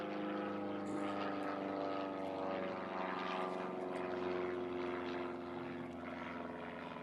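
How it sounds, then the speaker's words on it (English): A propeller airplane flies overhead, its steady droning engine hum loud and continuous throughout, with a faint voice beneath it. "I'm just going to let this airplane fly overhead here"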